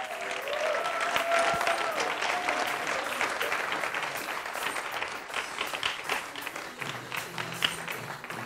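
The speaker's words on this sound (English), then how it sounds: "let's give them a round of applause." Sustained applause from an audience at an urban business storytelling competition, loud and dense with many hands clapping, steadily fading slightly toward the end, with faint voices in the crowd.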